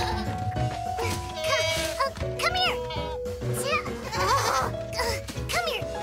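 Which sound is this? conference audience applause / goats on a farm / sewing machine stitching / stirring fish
goats on a farm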